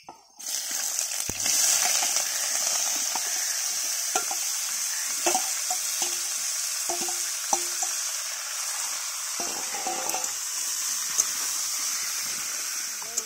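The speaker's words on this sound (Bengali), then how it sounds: "তেল দিয়ে ভেজে নিচ্ছি" Jackfruit and prawns for a Bengali curry frying in oil: a steady loud sizzle with hiss throughout, broken by occasional soft stirring knocks and scrapes.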